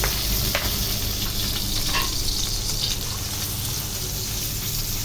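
Garlic and onion fry in hot oil with a steady, close sizzle that holds evenly throughout, faint clinks of stirring now and then, and no talking.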